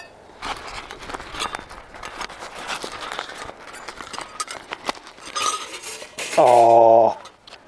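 Metal cookware clattering near a wood-fired kitchen stove, with a frying pan and pots knocked and set down in a run of clinks and clanks, ending in a loud ringing scrape.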